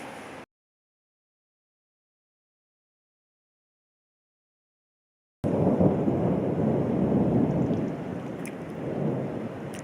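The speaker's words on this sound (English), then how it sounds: "So that sound I could hear is thunder, not the sea caves" After a long silence, a low, continuous rumble of thunder swells and lingers in Malta, with a faint hiss like rain over it.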